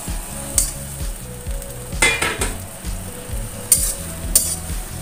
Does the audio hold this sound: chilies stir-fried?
yes